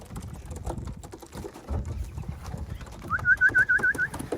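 Newly arrived pigeons in a loft give a brief run of soft, rapid cooing near the end, over a background of low shuffling and wing or foot noise.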